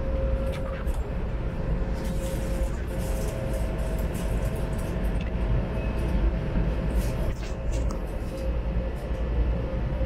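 A Las Vegas monorail train runs along its track with a steady rolling rumble and a faint whining hum, punctuated by light clicks and rattles from inside the car.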